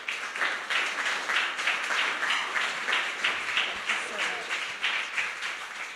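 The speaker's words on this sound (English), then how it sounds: "give a big round of applause to our" Steady audience applause filling a climate-policy government conference hall, many hands clapping in a dense, even wash that holds its level throughout.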